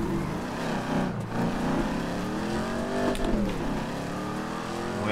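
Car engine revving continuously in the FiveM driving game, steered with a gearshift setup while drifting; a steady loud engine drone with rising and falling pitch sweeps throughout, no talk.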